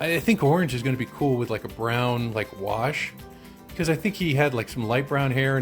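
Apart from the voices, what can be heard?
No everyday noises stand out.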